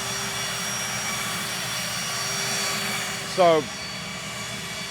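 A private jet's engines give a steady, even roar that holds throughout, with a brief louder rising whine near the end and a short word spoken once.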